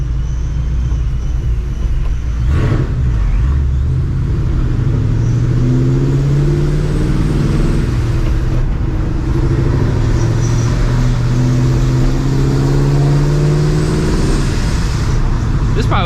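Steady low engine drone from a supercharged 1999-2004 Ford Mustang GT cruising and shifting up through the gears, heard loud and continuous from inside the car, with a brief voice near the start.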